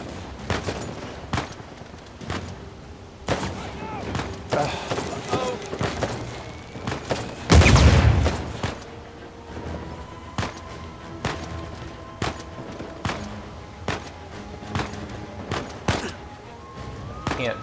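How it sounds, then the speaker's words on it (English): Gunfire and a grenade explosion in the video game Uncharted 4: a series of sharp shots spaced throughout, with one loud, heavy blast near the middle, amid combat sounds. "Oh, enough with the grenades!"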